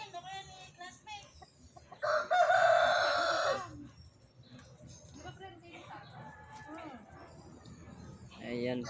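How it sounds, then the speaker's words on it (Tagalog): Turkeys in a garden let out a loud, harsh burst of calling, with quieter calls scattered before and after, while people chat nearby. "ang mga pabo."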